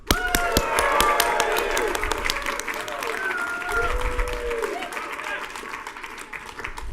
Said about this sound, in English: big round of applause for Back to Sober